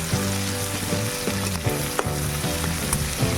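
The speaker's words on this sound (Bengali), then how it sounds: "পেঁয়াজ কুচি কাঁচা লঙ্কা কুচি দিয়ে ভালোভাবে ভাজা করে নেব।" Chopped onion and green chilli fry in hot oil in a wok, a steady close sizzle with irregular clinks and scrapes of stirring running throughout.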